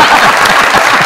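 A studio audience claps at a television show, a thick, continuous wash of many hands clapping together, loud and close for a short moment.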